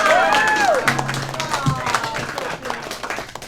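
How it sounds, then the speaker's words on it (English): A comedy club audience at a stand-up show claps and cheers for a comedian, loud and close at first, then thinning as a voice speaks over the fading applause. "Andy Archila, give a nice round of applause."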